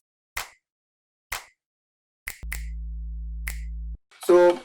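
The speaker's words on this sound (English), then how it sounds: "claps and snaps." Sharp finger snaps and claps mark out a sparse rhythm in a music remix pre-chorus, several isolated hits spaced about a second apart over a low sustained tone, ending in a brief burst of bright musical sound.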